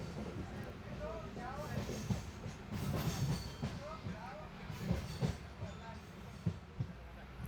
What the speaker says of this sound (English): We pull into platform number 1 of Murudeshwar station at 5:38 pm